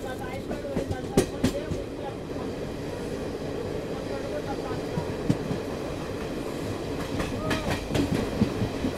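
Garib Rath Express train running past a junction, a steady rumble with repeated clickety-clack wheel beats and occasional sharp clanks, heard close throughout with faint voices in the background.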